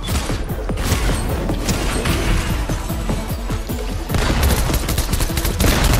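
Shotgun blasts in the video game Fortnite, several sharp, loud reports in quick succession amid dense, chaotic battle noise, with no talking over them.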